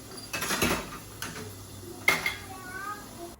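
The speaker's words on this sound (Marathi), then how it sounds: "पटकन देवाची भांडी घासून घेते" Small metal pooja utensils scrubbed and washed by hand at a kitchen sink, a few clinks and clatters in short bursts with scraping between, close by, with a voice speaking briefly.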